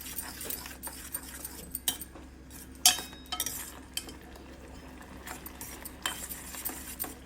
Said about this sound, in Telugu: ఈ మిశ్రమం అంతా దగ్గర పడే వరకు కలుపుకుంటూ ఉండి ఉడికించుకోవాలి